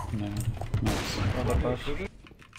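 Gunfire in a first-person shooter video game, a burst of rapid shots and impacts heard close under excited talk, cutting off sharply near the end.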